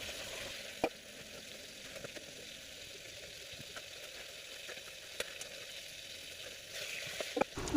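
Pointed gourd, salted and turmeric-coated, fries in a pan with a faint, even, continuous sizzle and a few soft scraping ticks throughout.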